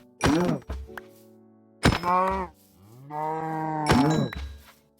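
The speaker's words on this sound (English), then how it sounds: "I decided to slaughter these cows so I could get food and leather at the same time" Cows mooing and being struck in Minecraft, three loud drawn-out moos spaced about two seconds apart, each opening with a sharp hit sound, with no talk.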